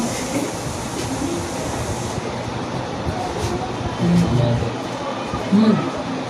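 A moving train rumbles steadily at close range, with a dense rolling roar and a few brief squeals and clanks rising over it.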